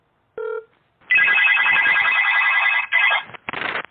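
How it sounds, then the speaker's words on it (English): A telephone rings loudly and close by with a harsh electronic trill after a short tone, running in bursts with brief gaps and no voices over it. "What's that ringing?"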